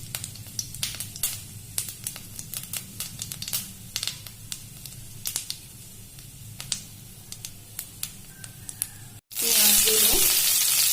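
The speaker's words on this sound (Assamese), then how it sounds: "এতিয়া মই তেলখিনিত কেইটামান গোটা জিৰা দি দিলোঁ" Whole cumin seeds and a dried red chili sizzle in hot oil for a banana blossom dish, a close crackling spatter with popping bursts, then a louder rush of frying as more goes into the pan.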